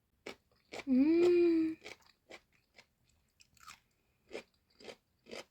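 Crunchy pickled cucumbers being bitten and chewed, giving a series of short crisp crunches close to the mic, with one drawn-out moan in between.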